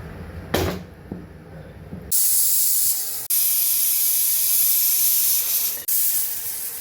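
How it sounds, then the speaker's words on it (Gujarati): A pressure cooker holding chole lets out loud, sustained hissing steam whistles, two long near bursts interrupted by brief breaks, after a few quieter kitchen knocks at the start. "કુકરને બંધ કરી અને 5 થી 6 સીટી આપણે વગાડી લેવાની છે"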